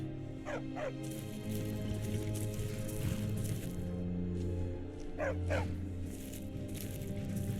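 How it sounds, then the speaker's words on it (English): A war dog in a video game barks in two quick pairs, a few seconds apart, over a steady bed of game music and ambience. "A war dog is good company and good protection."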